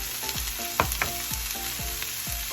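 Browned vegan taco pasta base in a pan as black beans, corn, green peppers, onion and jalapenos go in; a steady loud sizzle fills the pan, broken by a few sharp utensil clinks and thuds, with no talking.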